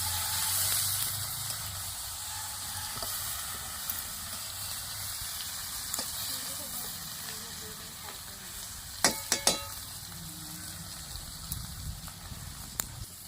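Onions, cauliflower and tomato for a fish curry fry in a pan with a soft, steady sizzle and hiss. A few sharp clinks of stirring come near the end, and the whole sound is faint.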